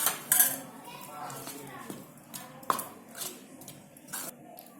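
Dough ingredients for namak pare being mixed in a bowl, with irregular clinks and scrapes of a spoon against the bowl, fairly close, and some background speech.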